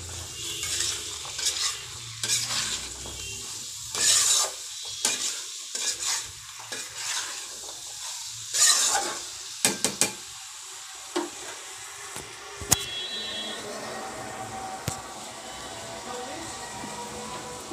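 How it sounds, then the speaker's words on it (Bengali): Potatoes and vegetables tossed with turmeric, salt and garam masala in a frying pan, giving repeated scraping stirs over a low sizzle, with irregular bursts of spatula movement across the pan at close range. "এবার নেড়ে চেড়ে মিশিয়ে নেব।"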